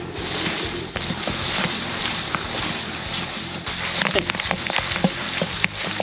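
A vanilla popcorn mixture foams and sizzles in a pot, giving a dense, continuous crackling hiss with scattered sharp pops up close.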